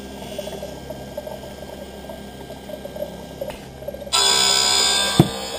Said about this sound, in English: I just want you to see your clear, unbreakable polycarbonate lens as it touches down onto the cutting wheel